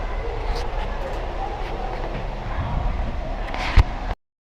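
Steady low rumble of a passenger train running, heard from inside a compartment, with a continuous rolling roar and a brief sharp clank near the end before it cuts off.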